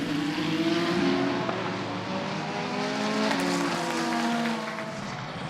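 GT3 race cars, a BMW and an Aston Martin battling for position at Imola, roar in a dense, continuous engine blend with several rising and falling harmonic tones as the cars run close together, steady and fairly loud throughout.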